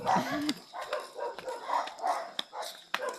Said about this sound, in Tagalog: Hindi magkaigihan ang aso.